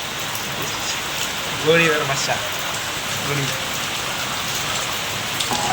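Heavy monsoon rain pours down steadily around a house, a loud, constant hiss of drops on surfaces, while someone speaks briefly over it.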